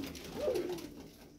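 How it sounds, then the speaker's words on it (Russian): A single pigeon gives one soft, low coo, heard close and faint in a quiet space; the bird is in poor condition, nearly bald and missing feathers. "То есть, это голубь."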